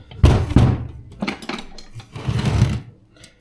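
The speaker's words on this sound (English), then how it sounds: "So now I will be removing these screws here." Screws being worked loose with a plain screwdriver from a Yamaha DT 125 motorcycle under restoration: several close metallic clicks, scrapes and thunks in quick succession, with no talk.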